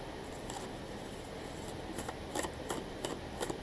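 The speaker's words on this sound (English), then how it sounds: "let me pull some more cards" Tarot cards pulled one after another from a deck during a psychic reading, giving soft papery snaps and slides: a faint rubbing at first, then about five crisp flicks spaced roughly half a second apart.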